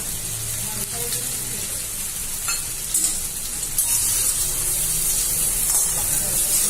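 Sabudana khichdi with red chilli frying and being stirred in a pan, a loud, continuous bright sizzle with occasional scraping stir strokes, swelling slightly toward the end.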